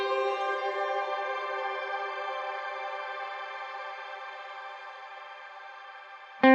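Shimmer reverb set to full intensity, with one pitch shifter an octave up and another seven semitones up, turns a single struck chord into a long, glassy, slowly fading wash. A sharp sound cuts in at the very end.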